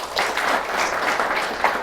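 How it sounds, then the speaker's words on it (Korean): An audience of senior officials at a leadership lecture gives dense, steady applause, loud and close, a sustained patter of many hands with small swells throughout. "박수 소리 역시 묵직합니다"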